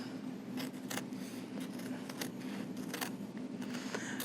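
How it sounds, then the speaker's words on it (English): Repeated crisp snips of sharp scissors cutting fabric close by, a few quick cuts spaced over steady low background hum. "These are pretty sharp scissors"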